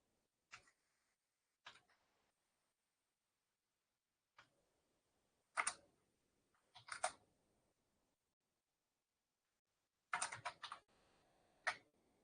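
Lines of Linux commands typed on a computer keyboard: short, separated bursts of key clicks with pauses between them, close and fairly quiet.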